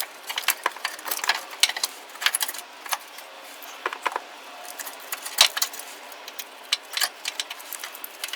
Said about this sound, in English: put the 3 bolts on the mounting bracket